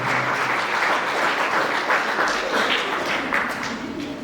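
Warm applause from a concert audience greeting the performers as they come on stage, a steady, dense clapping that holds for several seconds before easing slightly.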